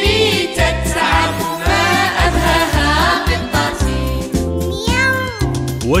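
Meowing cat sounds woven through a children's song about a cat, performed at a live show in Adrar in 2019, the meows riding over a steady bouncing music backing throughout.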